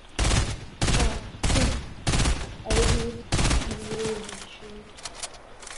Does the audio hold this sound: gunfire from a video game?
yes